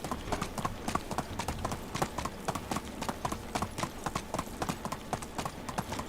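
A shod horse sprints along a road in Medieval Dynasty, its hoofbeats a brisk, regular clip-clop. The near, even rhythm carries on throughout with no voices.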